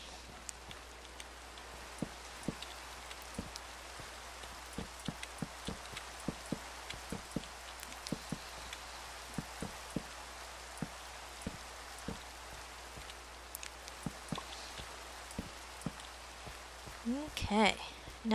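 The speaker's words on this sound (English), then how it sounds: "That rain's not coming in anymore." Rain falling in Minecraft makes a steady, even patter with scattered sharper drops, and a few brief sounds come near the end.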